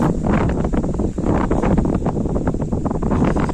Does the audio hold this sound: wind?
yes